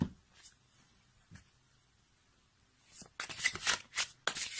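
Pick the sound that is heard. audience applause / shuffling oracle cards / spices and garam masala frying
shuffling oracle cards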